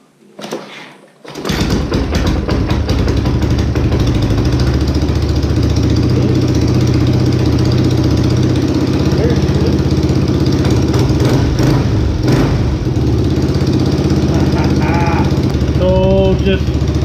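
A trike engine fitted with a new carburetor starts and settles into a loud, steady, continuous idle held close to the recorder for the rest of the clip, with no talking over it.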